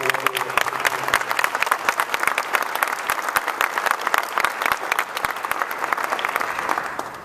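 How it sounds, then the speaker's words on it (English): An audience at a civic event in New Orleans applauds in a steady, dense wash of clapping that holds for several seconds and eases slightly toward the end. "How about let's give them a round of applause."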